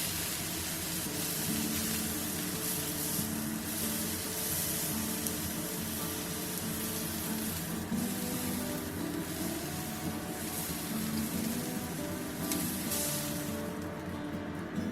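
A chuck steak sears in a cast iron pan, held up with tongs so its edges brown, giving a continuous soft sizzle and hiss at low level with slight fluctuations.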